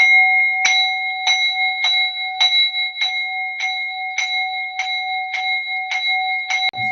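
A bell struck repeatedly at a steady, unhurried pace during a Rakhmany Easter folk-tradition rite, about a dozen bright ringing strokes that overlap and sustain, loud and close with no voices.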